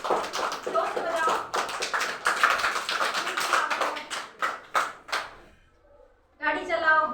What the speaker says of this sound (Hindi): ताली बजाओ सब